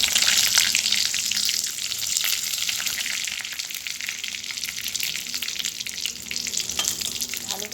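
Whole spices — cumin seeds, dried red chillies, cardamom, cinnamon and bay leaves — spitting in hot oil for a dal tempering, a loud steady sizzle with crackling throughout, the brightest burst at the start.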